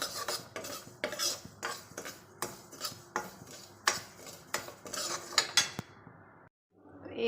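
Broken wheat (dalia) being stirred and roasted over low heat in a pan, a spoon scraping and clinking against the metal in a steady series of close, sharp strokes, then a brief pause before stirring resumes.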